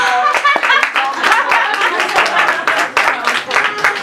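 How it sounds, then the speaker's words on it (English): Audience at a comedy show at Club Rio Linda claps for an incoming comedian, steady close hand claps filling the room with a few voices calling out over them. "Start clapping your hands right now for a very funny guy"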